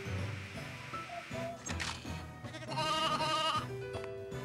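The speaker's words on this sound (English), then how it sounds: "Go rescue the sheep." Sheep bleat repeatedly in a PS1 game, several wavering, nasal calls stacked over game music, close and fairly loud.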